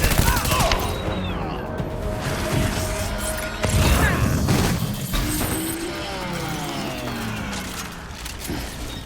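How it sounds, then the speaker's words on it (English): Rapid bursts of gunfire crackle amid crashes, mechanical clatter and a whining tone during combat in the video game Death Stranding, with a voice talking over the busy mix. "as you stop the mules right in their tracks with a hail of gunfire"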